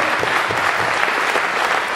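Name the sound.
audience applause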